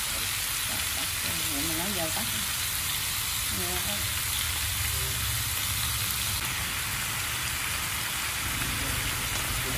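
Eggplant, corn and winged beans sizzle steadily in a hot pan while being stir-fried, a constant loud hiss throughout, with someone speaking over the cooking.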